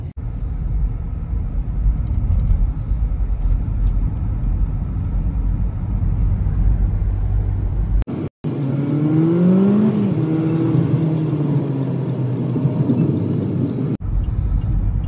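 A car drives through a traffic jam on the Satara-Pune highway, with a steady engine and road drone and a louder, closer pass of another vehicle late on.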